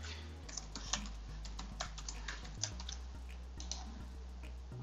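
A password is entered on a computer keyboard in a steady run of soft, close key clicks over a low background hum, no speech over it.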